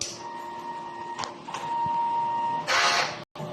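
A DTF printer runs a heat clean of its print head, giving motor whirs, tonal hums and a brief loud mechanical burst before a sudden cutoff.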